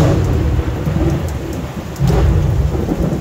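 Heavy rain pours steadily outdoors over fig trees during a summer thunderstorm, with deep rolling thunder rumbling underneath, loud and continuous with no voices.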